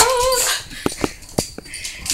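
A year-old British Labrador retriever whimpers and yips in a few short, high, close cries after a brief whine, with faint room noise between them.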